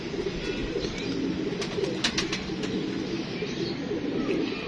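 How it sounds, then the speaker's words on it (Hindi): Pigeons cooing softly at a backyard pigeon loft, low murmuring calls blending into steady outdoor background noise, with faint chirps and rustling throughout. "सारे दो कबूतर खड़े, दो ही मजेदार पड़े, अच्छे कबूतर है सारे"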